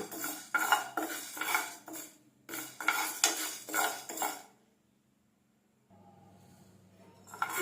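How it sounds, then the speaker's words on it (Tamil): Urad dal is dry-roasted in a pan for idli podi, heard as rhythmic spatula scraping and rattling of grains against metal in two bursts, followed by silence and then a low steady hum. "நல்லா பொன்னிறமாக வறுத்துக்கலாம்"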